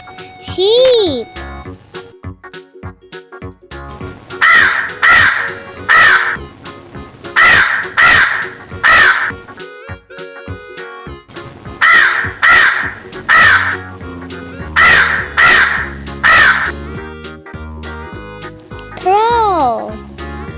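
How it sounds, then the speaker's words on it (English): A crow caws loudly and repeatedly in quick clusters of harsh calls over light background music. A voice is briefly heard at the start and end. "Crow."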